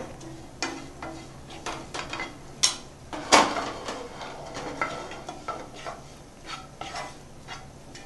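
A spoon stirs garam masala into a dry mixture of cooked green peas for kachori filling in a pan, with a series of scraping strokes and a sharp clink partway through over a faint sizzle.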